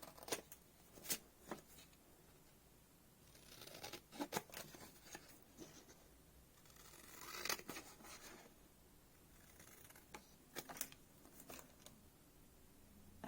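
Scissors cutting paper by eye for a travel journal, a series of quiet, irregular snips and rustles that come close by, with pauses between the cuts.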